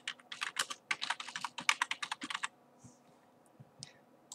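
Rapid clicking keystrokes on a computer keyboard come in a quick close burst of about twenty taps, then a few scattered, quieter clicks follow after a pause.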